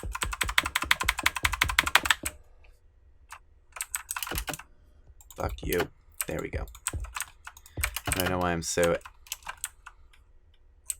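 Rapid clattering typing on a computer keyboard during a Minecraft stadium build, a dense burst of keystrokes followed by scattered clicks, heard close and interleaved with someone talking.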